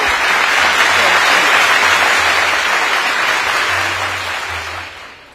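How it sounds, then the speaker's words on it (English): A large crowd applauds loudly at a university graduation ceremony in Kampala. The thunderous clapping is close and full, holds steady, then tapers off toward the end, with a low hum running underneath. "give a very big thunderous hand clap"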